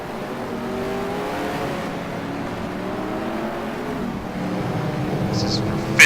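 Several race car engines in a racing video game at Circuit of the Americas droning steadily under commentary, with a rising engine note near the end and a brief sharp noise at the close.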